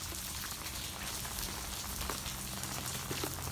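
Steady rain falls outdoors, a dense, even patter of drops on surfaces that holds constant throughout with no voices.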